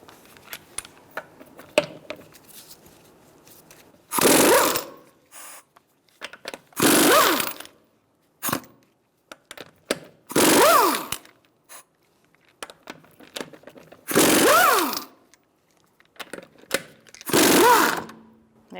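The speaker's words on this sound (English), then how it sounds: "It's time to remove our wheel. We're going to use a 21mm socket." A 21mm socket on an impact wrench spins off the lug nuts of a 2007-2012 Nissan Altima front wheel, firing in five or six loud, separate bursts of a second or two each with short pauses between.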